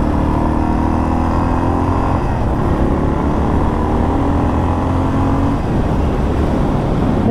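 A thirty-year-old Yamaha XT 600 single-cylinder motorcycle runs steadily while being ridden, a loud continuous engine drone whose pitch shifts slightly partway through, with no talking.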